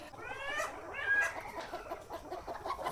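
Chickens clucking while being held at night, giving several close, agitated squawks and clucks in quick succession over faint background noise.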